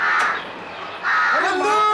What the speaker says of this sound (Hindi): कौवा जोर से बोल रहे